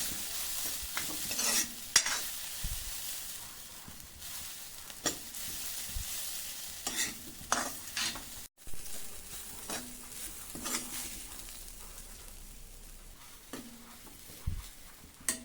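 A ground coconut mixture fries in a pan while a spoon stirs it, giving a soft steady sizzle with repeated scraping strokes at irregular intervals, fairly quiet and close, with no one talking.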